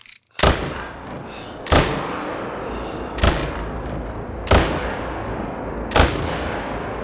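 Rifle shots ring out in theHunter: Call of the Wild, five loud, sharp cracks spaced about every second and a half, each followed by a decaying outdoor echo over a quiet ambient background.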